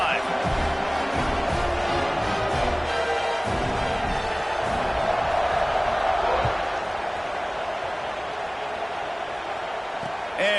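A football stadium crowd roars steadily at a college game between UNC and LSU. The cheering stays loud and continuous, and a commentator talks over it.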